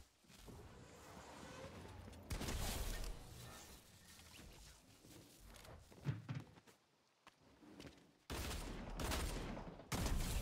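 Gunfire in Fortnite: bursts of loud rapid shots in a few clustered volleys, with quieter thumps and footsteps between them and a brief pause near the middle.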